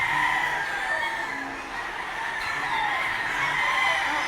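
Several roosters crow over one another with chickens clucking throughout, a busy, continuous chorus at a crowded hobby expo in Clark, Philippines, at close to moderate distance.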